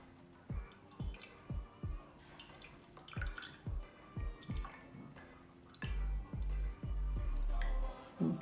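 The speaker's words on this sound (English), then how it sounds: "I'm going to use some of the clean water here just to rinse that." Water splashing and dripping as a hand is rinsed with clean water after a homemade exfoliating scrub, a close series of soft rhythmic splashes followed by a steadier pour near the end.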